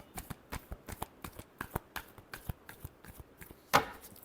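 Tarot cards are shuffled by hand in a quick run of light, regular taps and riffles, ending with a sharper slap as the deck is squared, close and quiet.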